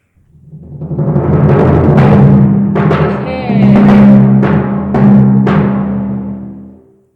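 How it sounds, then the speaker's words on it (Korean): Timpani play the hunters' theme from Peter and the Wolf with the orchestra at a concert, a series of booming strikes and rolls that swell, peak and fade over about seven seconds. "사냥꾼은 팀파니,"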